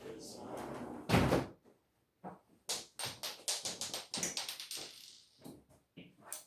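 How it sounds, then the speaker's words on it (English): An indoor door in a house with a conservatory is pushed shut with one loud thud, followed by a run of lighter knocks and handling clatter nearby, with a person talking softly around it. "I'll just close this door here."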